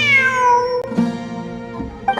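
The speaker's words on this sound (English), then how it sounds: "I'm not hearing things. It really is a cat." A cat in the video game Genshin Impact lets out a long, falling meow followed by softer, shorter mews, close and clear over a faint ambient bed with no talking.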